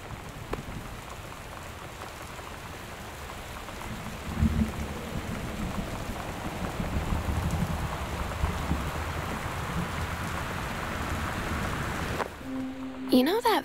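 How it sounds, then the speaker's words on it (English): Heavy torrential rain in a video game pours as a dense, constant hiss with a low rumble beneath, then cuts off abruptly near the end, replaced by a brief tonal sound. "The Northwest Weather Service reports high winds and torrential rain conditions affecting the following counties"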